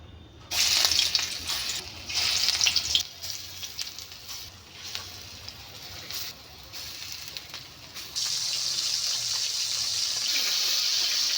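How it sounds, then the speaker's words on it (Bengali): Masoor dal fritters frying in hot oil in a home kitchen, a steady broad sizzle and crackle that swells and settles, then turns louder and more constant toward the end, with no talking. "মাছ করার আগে আগে ওই যে ডালের বড়াটা করে নিচ্ছি।"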